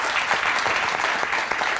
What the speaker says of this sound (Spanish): Pues entonces se merece un aplauso.